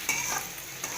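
Onions sizzle and fry steadily in a pan for banana stem pulao, a brief close hiss with a soft stir.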